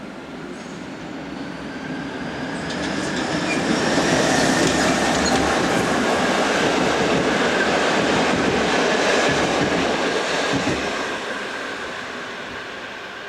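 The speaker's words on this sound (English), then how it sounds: "number 670 departs St. Valentin with a local train for Linz." An Austrian Railways ÖBB class 1042/1142 electric locomotive departs St. Valentin with a local train for Linz, rumbling past with steady clattering wheels, growing louder then fading as it pulls away, with no voices.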